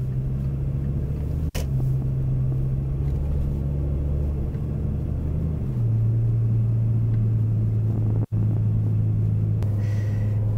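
An Audi RS6 C6 with a 700 hp V10 cruises on the road, a deep steady rumble heard from inside that shifts pitch once as it changes gear, loud and continuous without speech.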